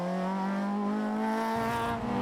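A retro rallycross car powers out of a hairpin, its engine note rising steadily as it accelerates hard, heard at a distance and fairly faint.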